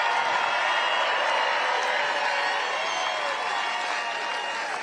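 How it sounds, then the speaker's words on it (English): Large crowd at a Trump rally in Virginia applauding, steady broadband clapping that stays loud and sustained throughout with a few scattered cheers mixed in. "let's have a big round of applause for the men and women of the United States Armed Forces"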